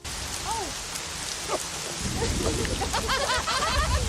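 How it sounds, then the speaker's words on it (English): Heavy rain falls in a constant hiss with low rumbling underneath, while voices and laughter rise over it partway through, growing busier toward the end. "Soon, heavy rain begins to fall."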